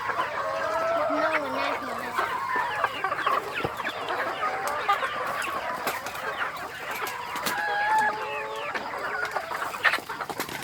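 A flock of about 130 laying hens clucks and chatters continuously at close range, with occasional sharper squawks and a faint crow amid background voices.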